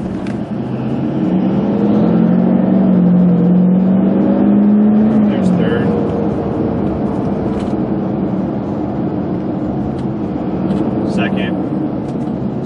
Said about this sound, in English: So I've kicked it down to third, you can hear the downshift.